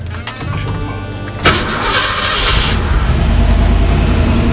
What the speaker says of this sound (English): Let's fire this engine up.